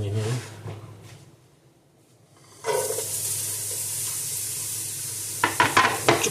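Onions hit hot oil on a stove with a sudden loud sizzle that keeps crackling steadily, with a few sharp clinks of a utensil near the end.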